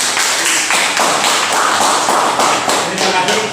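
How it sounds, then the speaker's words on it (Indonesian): A classroom group gives steady, dense applause after a presentation, loud and close, with many hands clapping continuously throughout. "Berikan aplaus terlebih dahulu."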